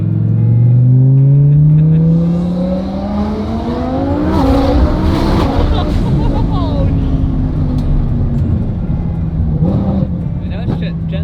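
Twin-turbo, 1,300-horsepower race car accelerating, heard from inside with a rising engine note, turbo whine and tire noise. It stays loud and sweeps upward, then holds at a high drone while people talk over it.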